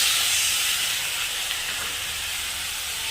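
Water poured into spices frying in oil in a pan gives a loud, steady, close hiss and sizzle that holds evenly throughout with no talking.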